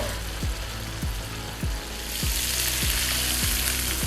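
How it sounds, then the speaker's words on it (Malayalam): Marinated fish frying in a pan over a medium flame, Kerala style, giving a steady, close sizzle that swells louder partway through, with a faint repeating low thud underneath. "മീനിൻ്റെ ഒരു സൈഡ് നമുക്ക് ഏകദേശം 3 മിനിറ്റ് നേരം ഒന്ന് ഫ്രൈ ചെയ്തെടുക്കാം"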